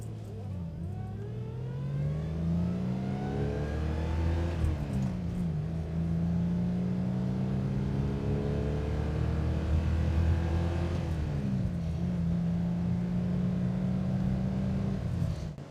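A Rover car pulls away in first gear, its engine note climbing steadily, dropping briefly at a shift, then rising again. The sound is continuous, close and fairly loud, with no voices.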